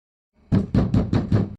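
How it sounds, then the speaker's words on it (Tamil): Five firm knocks strike a door in quick, even succession, close and loud, with nothing else sounding around them. "திரும்ப திரும்ப கதவை தட்டிக்கிட்டே இருக்காங்களே"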